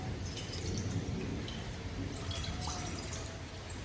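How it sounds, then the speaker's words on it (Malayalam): Water is poured into a pot set on a lit gas stove, giving a continuous splashing, gurgling rush close to the listener for several seconds without speech. "കുറച്ച് വാട്ടർ ഒഴിച്ചു കൊടുക്കും"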